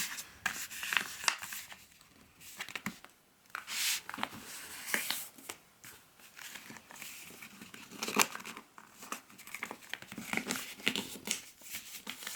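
Paper sheet folded into an origami face mask, giving repeated close crinkling, rubbing and creasing sounds in irregular bursts with brief pauses, alone without talk.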